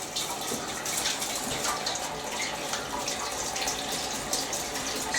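Water is poured through a Zanussi SD 2811W spin dryer, a continuous splashing gush that stays even for the whole stretch.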